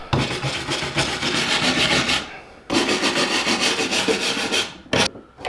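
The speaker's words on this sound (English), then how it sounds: "The wire brush really makes the difference." A wire brush scrubs a carved wood sign along the grain in rapid, close, scratchy back-and-forth strokes, with a short pause midway and then more brisk scrubbing, ending in a couple of quick strokes.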